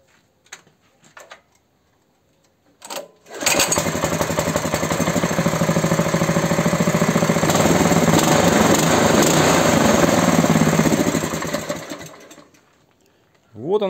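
A small classic-style mini tractor engine starts after a lost-spark fault is repaired and runs at a steady, buzzing idle for about eight seconds, close and loud, before cutting out, with brief clatter before and after.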